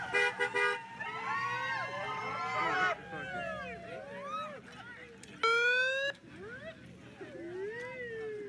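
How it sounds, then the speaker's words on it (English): A car horn honks in a long, loud blast at a Portland street protest with heavy traffic, standing out from crowd noise and talking voices, with fainter toots and cheering around it. "Honk your horn."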